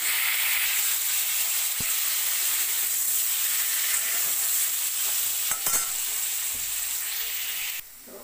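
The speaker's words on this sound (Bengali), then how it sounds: "ওই কড়ার মধ্যে আমি আলুটা দিয়ে ভেজে নিচ্ছি।" Boiled, salted potatoes fry in hot oil in a wok, giving a steady close sizzle with occasional stirring scrapes, and the sound cuts off sharply near the end.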